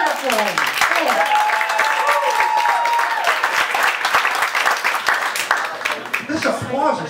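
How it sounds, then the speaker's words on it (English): An audience applauds after a comedy show's set, a sustained wash of clapping with a voice talking over it near the end. "This applause is great"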